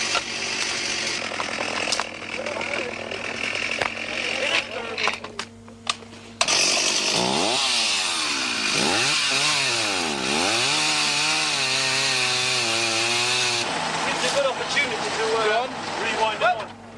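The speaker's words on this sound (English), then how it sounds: "If it's not the buzz of chainsaws, it's the thud of hand axes" Chainsaw engines buzz continuously, rising and falling in pitch as they cut wood on the 1988 Camel Trophy expedition in Sulawesi, with a person speaking over the noise partway through.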